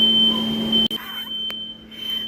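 A household smoke alarm shrills with a piercing, continuous high-pitched tone that cuts out briefly and resumes, filling the room indoors during a blizzard with frozen, burst pipes.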